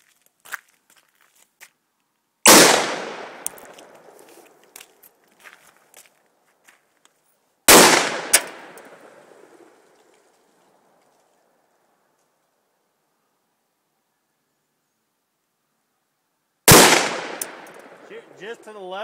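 Three separate loud gunshots ring out outdoors several seconds apart, each with a sharp crack and a long decaying echo, with faint handling noises and quiet voices between them.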